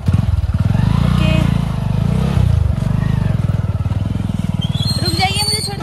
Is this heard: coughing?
no